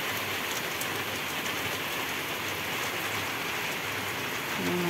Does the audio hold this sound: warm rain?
yes